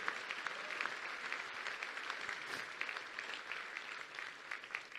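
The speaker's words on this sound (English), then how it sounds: "a big round of applause for Admiral Jeremy Bourda" An audience at a Contact in the Desert 2018 talk breaks into steady, dense applause, a sustained patter of many hands clapping with no voices over it.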